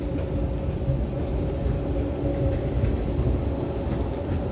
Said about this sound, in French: Voilà le tramway qui arrive, qui complique pas mal la circulation en voiture dans la ville.